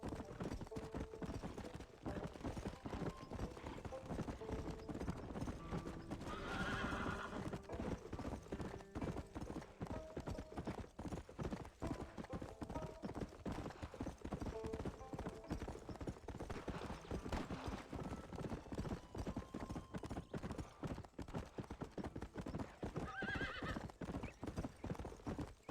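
Galloping horse hooves clip-clop steadily throughout in Red Dead Redemption on Nintendo Switch, with a couple of whinnies rising above the dense, continuous game soundscape.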